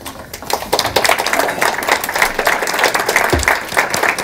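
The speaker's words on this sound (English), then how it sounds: "I would like to ask all team members please to stand for a round of applause" Audience applause fills a college event hall as team members stand, a dense, steady patter of many hands clapping at close range for the whole stretch, with no voices standing out.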